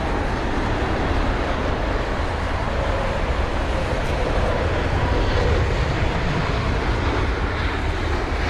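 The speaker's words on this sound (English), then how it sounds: "it's an A320-200 of British Airways arriving from Paris CDG on a 55-minute long journey" A British Airways Airbus A320-200 arriving at Heathrow in stormy weather from Paris CDG makes a steady broadband jet roar. Heavy rain and wind noise blend into it, and it stays loud and constant throughout without any voices.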